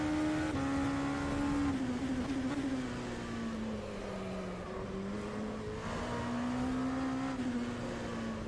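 An LMP2 prototype race car in the rFactor 2 racing game on the Sebring road course, a steady droning engine note that rises and dips with throttle and gear changes, continuous and alone for the whole stretch.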